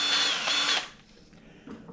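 A power drill used to grind small engine valves whirs loudly at high speed for under a second, then winds down and stops, leaving quiet room noise.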